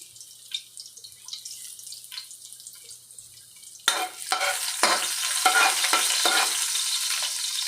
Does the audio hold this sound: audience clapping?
no